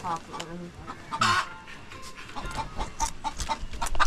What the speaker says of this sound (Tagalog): Ganyan sadya yata ang manok pag mangingitlog. Putak ng putak.